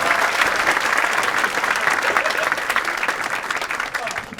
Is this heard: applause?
yes